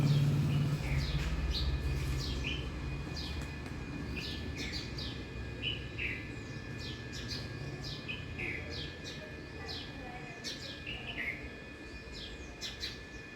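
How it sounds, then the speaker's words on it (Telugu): Many house sparrows chirp repeatedly in short bright bursts, moderately distant, over a steady outdoor hum and faint background voices in the early morning. "ఊర పిచ్చుకలు చిట్టి పక్షులు ఇవి అన్నీ వస్తూనే ఉంటాయి"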